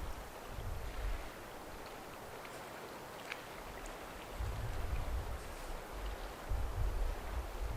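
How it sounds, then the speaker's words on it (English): Gentle waves lap at the edge of a body of water, a soft, continuous wash with low swells rising and falling, steady outdoor ambience without talk. "Hopefully you can hear the waves lapping gently behind me."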